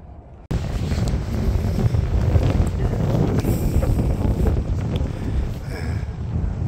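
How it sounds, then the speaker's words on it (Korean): Wind blowing across a golf course at Daegu CC, a steady low rumbling buffeting against the microphone that starts abruptly after a brief quiet moment and continues without a break. "바람이 좀 불어."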